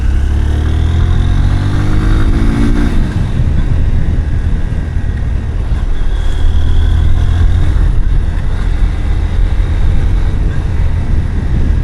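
A Honda X Blade 160cc motorcycle being ridden, its engine droning steadily and loudly with wind rush throughout, pitch rising briefly early on and then holding at cruising speed.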